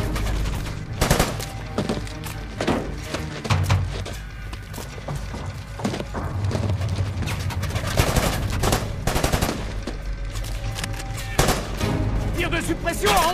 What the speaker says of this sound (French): Tir de suppression à 11h!